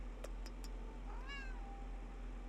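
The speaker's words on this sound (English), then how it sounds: "Yeah, I hear kitties." A cat gives a single clear, rising-and-falling meow indoors over a low steady hum, preceded by a few faint clicks, no voices.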